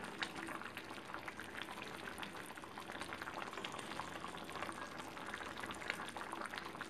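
A spicy homemade lemon pickle mixture boils steadily in a pan, giving a dense, continuous bubbling and sputtering hiss with fine popping throughout, close and even, with no voices.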